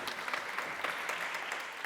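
Brief, fairly soft applause from a congress audience welcoming a doctor to the stage, an even patter of many hands with no talking over it.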